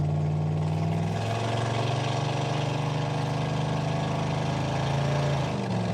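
A Super Camaro V8 with a carburetor problem runs at a steady, rough idle, a loud close low rumble that dips and shifts pitch slightly partway through and keeps going without any talk.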